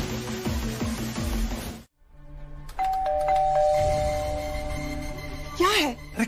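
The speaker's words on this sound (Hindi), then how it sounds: "इतनी बार बेल बजा चुकी हूँ, उनको दरवाजा खोलना चाहिए ना।" A doorbell is rung over and over in a home scene from a Hindi TV drama: ringing electronic chimes sound in repeated bursts, with voices heard around them.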